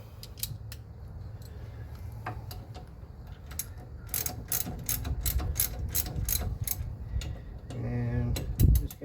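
Ratchet snugging 15 mm wheel bearing bolts on a C4 Corvette during an X-Tracker wheel bearing upgrade, a close run of quick clicking bursts with a few heavier clunks toward the end.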